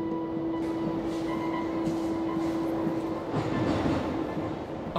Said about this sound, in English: I'm catching the metro